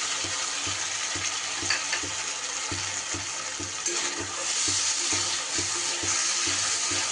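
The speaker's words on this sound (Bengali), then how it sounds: "মশলাটায় যেহেতু কাজু, পোস্ত, চালমগজ এইসব দেয়া আছে, তাই নিচে কিন্তু লেগে যাবে, একটু নাড়াতে হবে। খুব ভালো করে আমি কষিয়ে নেব।" Spice paste of cashew, poppy seed and melon seed, added to melted tomato for a pumpkin dhoka dalna, sizzles steadily in a pan while a spatula scrapes and stirs in an even, repeating rhythm close by.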